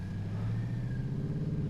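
A car engine hums with a low steady rumble and a slight rise in throttle, heard from inside the car, continuous and moderately loud over the whole short stretch.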